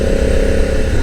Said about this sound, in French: regardez, la moto reprend sur un filet de gaz